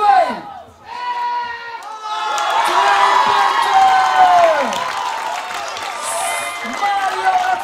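A young crowd at a King of the Kidz 2015 battle event cheers, shouts and applauds loudly, with whistles and excited voices swelling together.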